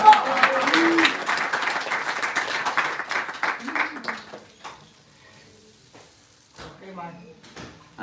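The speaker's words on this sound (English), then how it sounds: "All of you give an applause for Prabhuji." Audience applause in a devotional gathering, dense clapping filling the first few seconds and thinning out by about four seconds, followed by quieter scattered sounds and brief speech.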